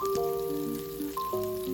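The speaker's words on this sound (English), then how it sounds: "Listen to that sizzle." Onion, Scotch bonnet and bell peppers sizzle in a frying pan for Jamaican butter beans and saltfish, a steady close crackle under sustained tonal music, with no talk.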